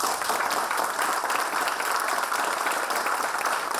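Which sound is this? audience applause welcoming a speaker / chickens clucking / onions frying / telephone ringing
audience applause welcoming a speaker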